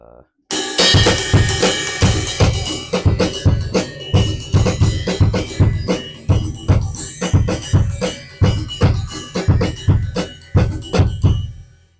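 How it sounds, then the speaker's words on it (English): A full mambo groove played on a drum kit, with busy syncopated bell, snare and kick hits driving steadily for about eleven seconds, loud and close with no talking. "to where we can create a groove, what's known as a mambo"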